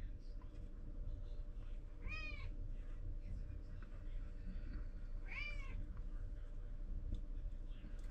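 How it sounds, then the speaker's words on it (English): A cat meows twice indoors, two distinct, fairly clear calls a few seconds apart over a low background hum. "That's my cat meowing."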